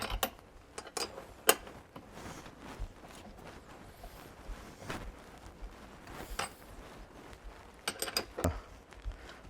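Scattered light metallic clicks and small scrapes from a wrench unscrewing a nut on a boat hatch's lifting handle, quiet and close, in irregular bursts with no talking.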